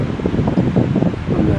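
Heavy, blustery wind buffeting the microphone on a high hilltop cemetery, a low rumbling roar that gusts continuously for a moment.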